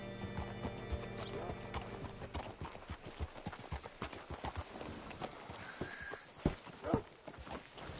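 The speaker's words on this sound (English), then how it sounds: "Hitch your horse up here." Horse hooves clip-clopping in the video game Red Dead Redemption 2, a steady run of close hoofbeats slowing toward the end, with a brief whinny and snort.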